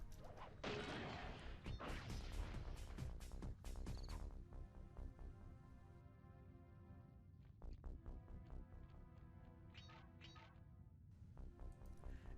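Repeated smashing hits against a force field base in the Sly Cooper and the Thievius Raccoonus video game, a series of quiet, sharp crashes and thwacks in rapid bursts, with no talking.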